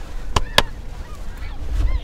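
Snow geese honk during a hunt as a flock passes, two loud sharp close calls followed by several fainter honks scattered behind, with no talk.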